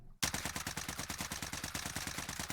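A C58 rifle fires on full auto in Call of Duty Warzone, one loud unbroken burst of rapid, evenly spaced shots that starts abruptly after a brief silence.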